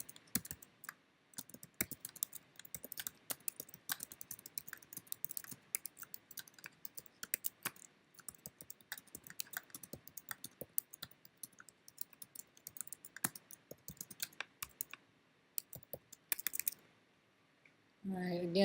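Fast, irregular clicking of computer keys runs through the recording, close and fairly quiet, with dense bursts of keystrokes and short pauses, ending with a brief louder noise.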